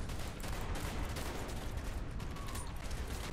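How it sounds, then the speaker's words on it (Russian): Gunfire in Call of Duty: Black Ops, dense rapid shots forming continuous crackling bursts throughout, faint and somewhat distant-sounding, with no talking. "Я стреляю в мужика, он не убивается."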